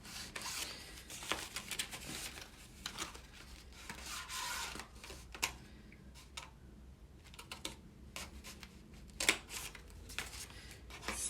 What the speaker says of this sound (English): Takes a little patience to get the scissors in there.